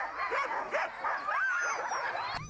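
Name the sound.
Husky sled dogs barking in Finnish Lapland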